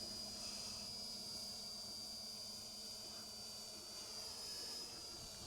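An FPV drone fitted with a zoom camera climbs toward roughly 30 meters, its motors giving off a continuous, steady whirring drone with a thin high whine on top, with no talking.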